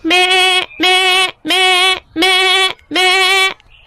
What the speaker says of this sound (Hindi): ये तो किसी बकरी की आवाज है।